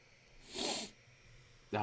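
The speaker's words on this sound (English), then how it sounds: "Sniffles." A single breathy sniffle through the nose, close and brief, followed by the start of someone speaking.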